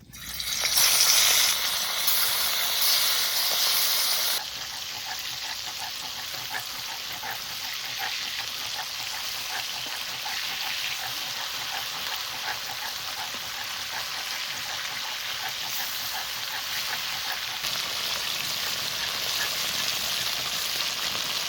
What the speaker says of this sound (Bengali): মাছ ভাজানো সর্ষের তেল দিয়ে দেবো। এবার মাছ এই গরম তেলে দিয়ে দেবো।